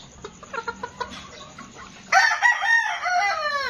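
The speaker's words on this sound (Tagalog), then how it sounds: "Tumitilaok na, siga na to." A backyard rooster, a young Boston sweater gamecock, crows loudly and close by in one drawn-out call after a run of soft clucks from nearby fowl.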